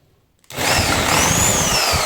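After half a second of near silence, a LEADER cordless saber saw starts up at reduced speed and runs as a close, loud, steady whine with a grinding rattle.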